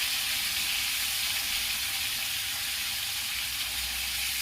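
Masala paneer shallow-frying in a pan with turmeric and Kashmiri red chilli, a steady, close sizzle and hiss that holds at an even level throughout with no talking.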